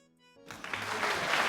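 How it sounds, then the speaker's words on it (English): Applause suddenly breaks out along a long street, swelling from near silence into dense, steady clapping from many hands that grows louder and fuller over a second or so. "Then, the whole street bursts into applause."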